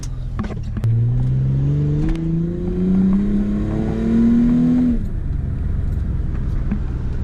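A Ford Mustang accelerating at half to three-quarter throttle, the engine note climbing steadily for several seconds before dropping off as the throttle lifts, loud and close with no talking.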